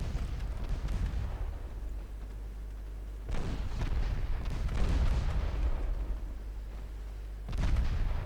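Warship naval guns firing armor-piercing shells at destroyers in Ultimate Admiral Dreadnoughts, deep booming salvos recurring at intervals over a low rumbling background.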